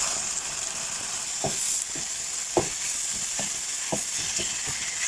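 Ground chicken breast sizzles steadily in a hot pan while a utensil scrapes and stirs it in occasional distinct knocks, the frying hiss staying loud and even throughout.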